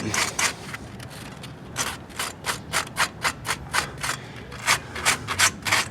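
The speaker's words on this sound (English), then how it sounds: "Take a bit of sandpaper, clean that up." Sandpaper rubbed by hand over the worn contact spots of rear drum brake shoes on a Toyota Paseo, a close run of short rasping strokes in a steady rhythm with no one speaking.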